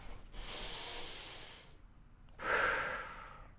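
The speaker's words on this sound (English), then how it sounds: "breathing in" Two audible breaths during a slow lower-back stretching exercise, a long inhale followed after a pause by a stronger, louder second breath, close and alone with no talk.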